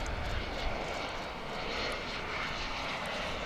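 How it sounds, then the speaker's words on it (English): An airliner inbound to DFW International Airport from Bismarck, North Dakota, passes overhead with a continuous, fairly loud engine roar that swells slightly and then steadies, heard alone without talk. "This flight that you're about to see go through the skies, coming in from Bismarck in the Dakotas."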